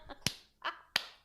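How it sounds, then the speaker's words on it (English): Three sharp hand claps spaced across about a second, each a crisp isolated slap counting out a beat, close and fairly quiet with no talk over them. "We're gonna clap on the count of 3."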